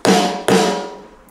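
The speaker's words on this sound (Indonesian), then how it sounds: "ini suara snare-nya." Two sharp, loud snare drum sample hits from a roll-up electronic drum kit, each with a bright burst and a ringing decay, the second struck about half a second after the first, with no talk over them.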